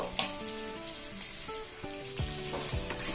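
Sliced onions and six slit green chillies fry in a pot with a quiet sizzle, broken by occasional clinks and ringing taps from a utensil against the pan.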